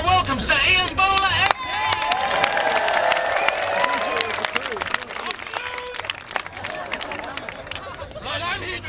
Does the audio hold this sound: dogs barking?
no